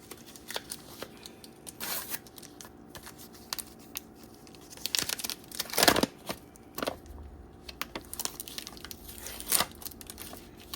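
Can cooler packaging being opened by hand, with intermittent crinkling plastic, tearing and rustling in irregular bursts, close and fairly quiet.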